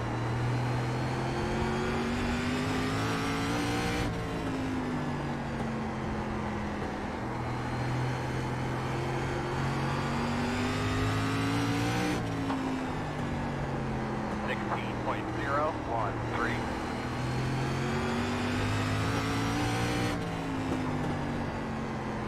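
Race car engine in the iRacing SRX series at South Boston Speedway, a steady droning roar with shifting pitch as it revs through corners, continuous throughout under a commentator's talking.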